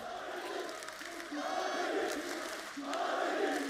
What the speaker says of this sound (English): Dueling crowd in the final moment.